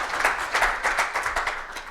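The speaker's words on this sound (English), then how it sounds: "I'd like to give Damon a round of applause" A conference audience applauds a speaker with a steady patter of many hands clapping, moderately loud and continuous with soft rhythmic peaks.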